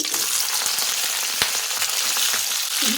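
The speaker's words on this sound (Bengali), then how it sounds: "এখন কড়াইয়ে সর্ষের তেল গরম করে দিচ্ছি কালো জিরে ফোড়ন, দিয়ে দিচ্ছি শিম" Flat beans frying in a pan of hot mustard oil with nigella seeds: a dense, steady sizzle with scattered crackles and pops, close and continuous, no voices.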